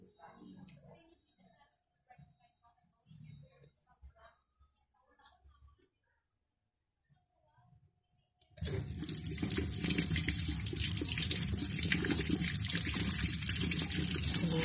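Running tap water streams steadily into a sink as four oranges are washed, starting suddenly after several seconds of faint handling noises and continuing as a loud, close gush to the end.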